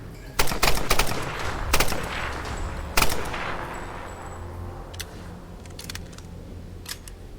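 Gunfire in the Tomb Raider game: sharp bursts of shots crack in clusters, with loud volleys early and around the midpoint, then scattered fainter pops over a lingering rumble.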